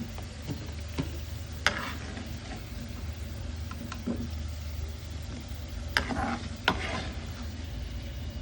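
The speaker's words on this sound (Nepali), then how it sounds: "यस आलुलाई पनि मजाले फ्राई गरेर चलाउने।" Potatoes frying in oil as they are stirred, an even close sizzle broken by several sharp clicks and scrapes of the spatula against the pan, with no one speaking.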